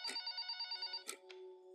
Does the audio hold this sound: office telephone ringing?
yes